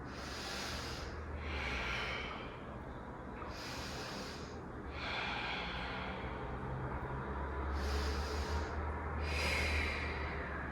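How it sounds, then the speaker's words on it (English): Deep, slow breathing in a hatha yoga class, with long rushing inhales and exhales repeating about every two seconds, close and clear over a low steady hum, with no talk. "breathe deeply"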